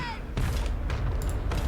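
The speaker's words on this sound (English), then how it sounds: "God, the cannons sound so meaty when they shoot." Cannons firing in a Total War: Warhammer 3 battle against the Empire, a few heavy booming shots spaced about half a second apart, loud and close, with a brief voice under the first blast.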